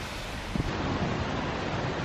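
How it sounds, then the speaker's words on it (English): Water rushes steadily at the Rocky Valley waterfalls near Tintagel, Cornwall, a constant broadband roar that sounds somewhat distant, with wind noise over the microphone and no clear voices. "We can hear the water."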